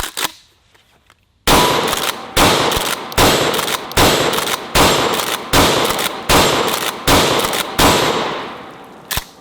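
A pump-action shotgun fires about nine loud, evenly spaced blasts at close range, each sharp report trailing off into a short ringing decay before the next shot.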